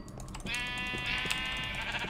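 Sheep bleating in Minecraft (Feed The Beast modpack): a loud, sustained, wavering bleat that starts after a brief pause and carries on steadily to the end, up close.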